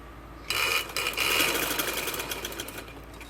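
A sewing machine starts up after a brief quiet moment and runs in a fast, steady mechanical whir while stitching a ladies' shameez, close and loud, with a couple of short pauses early on.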